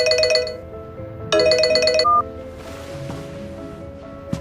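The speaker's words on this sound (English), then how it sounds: "I'm sorry, I have an urgent phone call." Phone ringtone in the video game Memento Mori, a bright repeating electronic melody that plays twice in close bursts, then fades into soft ambient background with a faint beep near the end.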